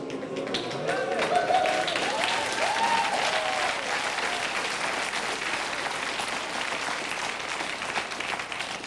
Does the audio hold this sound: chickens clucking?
no